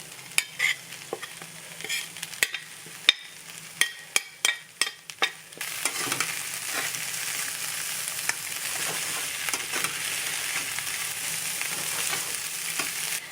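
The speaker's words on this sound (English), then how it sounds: "So now we're going to add the rest of our chorizo." Beef chorizo and potatoes sizzle in an oiled pan. A few sharp scraping stirs come first, then a steady, close frying hiss takes over and carries on without talk.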